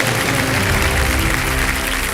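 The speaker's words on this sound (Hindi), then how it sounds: "अंकिता जी, तालियां बज जाए।" Studio audience on the Kaun Banega Crorepati game show breaks into loud, continuous applause, blended with show music throughout the short burst.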